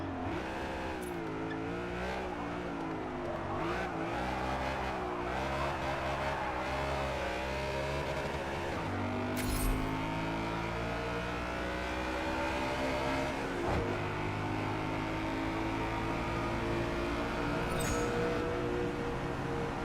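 A race car engine in a video game revs high and shifts through gears continuously, its pitch climbing and dropping with each change, with occasional tire noise.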